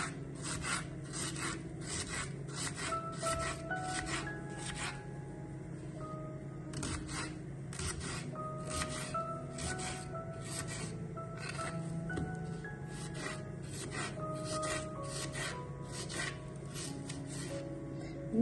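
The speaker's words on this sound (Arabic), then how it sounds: "نقطع البصله" A knife cuts onion on a board for a vegetable tagine, with steady rhythmic chopping strokes, close and fairly quiet, continuing alone.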